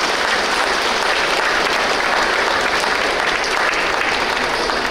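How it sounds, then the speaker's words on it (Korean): A large audience at a Buddhist dharma talk during a Korean Buddhist culture expo claps loudly and continuously, a dense, even wash of applause with no pause. "여러분 자신과 도반들에게도 큰 박수 주십시오."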